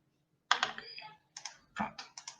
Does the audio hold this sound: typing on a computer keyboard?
yes